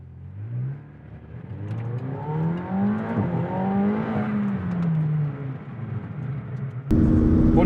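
Porsche 911 GT2 RS and McLaren 720S accelerating hard from a 50 km/h rolling start in manual mode, loud engine note climbing through rising revs with gear-change dips, then a sudden louder roar near the end.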